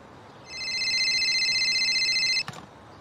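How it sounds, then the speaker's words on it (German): A telephone rings once in the Beer Factory video game, a steady electronic trill held for about two seconds before stopping with a brief click. "Oh, Telefon."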